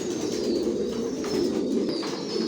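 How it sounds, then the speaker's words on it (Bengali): Racer pigeons coo in a loft, a steady, close chorus of low, throaty burbling calls that overlap continuously, with faint higher bird chirps above them and no speech. "ভিউয়ার্স দেখতে পাচ্ছেন এখানেও নিউ অ্যাডাল কবুতর"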